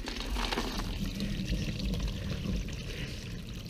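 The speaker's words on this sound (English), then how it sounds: "I'm gonna pour this water right back in there." Water from a camp well is poured back down into the well, a steady, continuous splashing pour lasting the whole stretch, loud and close with no one speaking.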